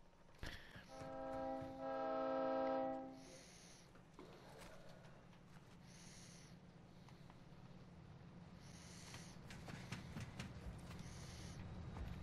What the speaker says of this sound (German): Das ist aber der neue Zug.